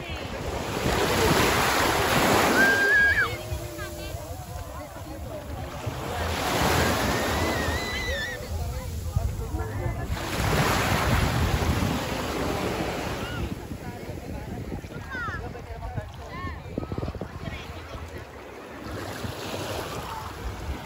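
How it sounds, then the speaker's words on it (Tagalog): Powerful surf crashes in repeated heavy surges every few seconds at a beach in Urbiztondo, San Juan, La Union, with gusty wind buffeting the microphone and faint voices in the background. "Lakas ng alon."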